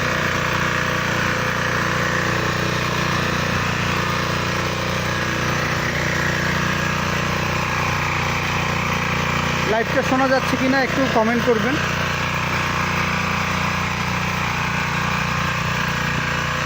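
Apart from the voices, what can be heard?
12 horsepower four-wheel mini tiller engine running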